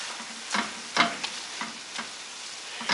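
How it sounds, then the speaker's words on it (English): Extra lean ground beef frying in leftover bacon fat, a soft steady sizzle with a few scraping stirs spread across it, quiet and close with no voices. "it will fry up with whatever residual fat is left in the bacon"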